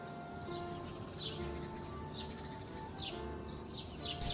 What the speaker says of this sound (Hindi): यहाँ पर आपको बहुत सारे परिंदों की चहचहाहट सुनाई दे रही होगी